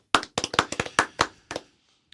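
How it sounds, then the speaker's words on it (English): Hands clap in a short, uneven burst of about ten sharp claps over roughly a second and a half, close and dry, then silence, with no voices over them. "we'll pause for applause"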